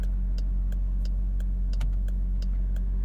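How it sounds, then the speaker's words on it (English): A 2020 Dodge Durango SRT V8 engine drones steadily from inside the cabin while driving, a deep continuous hum with regular faint clicks over it and no speech. "you've got the V8 to listen to as well"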